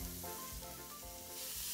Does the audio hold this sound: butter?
yes